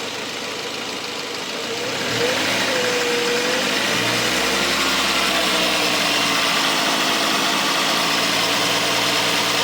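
Engine of a Mercedes A-Class W169 starting and then running steadily after a timing chain tensioner replacement, a close, continuous mid-range drone with a rise after about two seconds as the throttle comes in.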